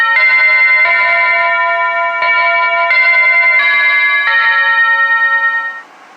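A Hampton Bay wireless doorbell chime rings a loud, clear melodic sequence of bright electronic bell tones, note after note over about six seconds, then cuts off, with no talking.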